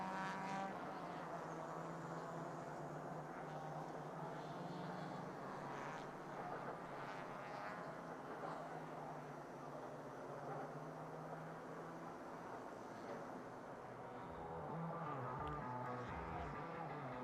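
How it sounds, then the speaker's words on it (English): Porsche Carrera Cup Asia race cars run on the circuit in 2021, producing a steady, dense engine roar that drones continuously in the background, swelling slightly toward the end. "Already the next track action getting out onto the circuit, so I might have to fight with engine noise just a little bit."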